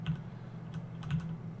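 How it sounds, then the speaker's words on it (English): Computer keyboard keys are tapped in a few sparse, soft clicks over a quiet background hum while brush size is adjusted in 3D texture painting software. "I'll use the bracket keys on my keyboard to scale this brush down"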